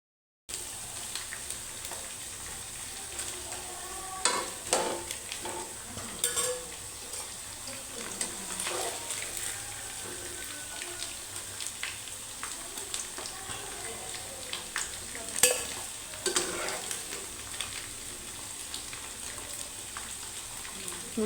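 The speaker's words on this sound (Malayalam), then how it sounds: "ചിക്കൻ വറുത്തെടുക്കുമ്പോൾ നമ്മൾ ഒരുപാട് അങ്ങ് ഇട്ട് കൊടുക്കാതെ കുറച്ചായിട്ട് ഇട്ട് കൊടുക്കുക." Chicken pieces frying in hot coconut oil for chicken kondattam, a faint, steady crackling sizzle with scattered pops and occasional stirring clinks, heard alone at low level.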